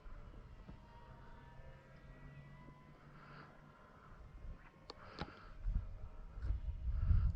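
An FMS P-40B radio-controlled model warplane passes low and slow with gear and landing flaps down, a faint distant engine drone rising toward the end amid wind noise outdoors.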